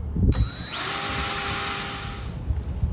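A drill spins up with a rising whine, drilling holes through the plastic and metal of a vintage Motorcraft shop clock, runs steadily for under two seconds, then winds down, with faint handling noises around it.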